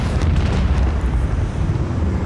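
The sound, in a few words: macro cannons firing and exploding in a video game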